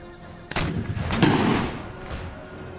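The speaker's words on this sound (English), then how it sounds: "Fire the cannon!" Cannon fire in the video game Empire Total War, a battle against a wall: a sharp blast followed by a second heavy boom that rumbles on, then another softer distant report, with no talk over it.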